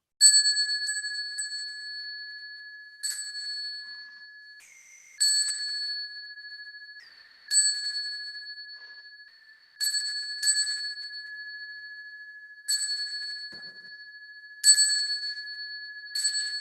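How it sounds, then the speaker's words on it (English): A bell at a Buddhist monastery lecture in Berkeley rings in clear, sustained strikes, each chime ringing out and slowly decaying before the next, close and alone in a quiet room. "And I'll ring the bell 3 times."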